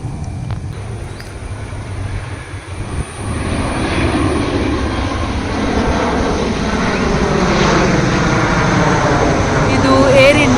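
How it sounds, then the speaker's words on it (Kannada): An Air India airplane flies overhead near a village bus stand, its engine roar building steadily from distant to loud and sustained over several seconds. "ಇದು ಏರ್ ಇಂಡಿಯಾ ಇರಬೇಕು."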